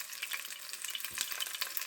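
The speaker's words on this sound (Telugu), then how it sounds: "ఇప్పుడు పచ్చిమిర్చి వేగుతున్నాయి" Green chillies frying in hot oil, a dense, even crackling sizzle heard close up with a few soft spoon movements.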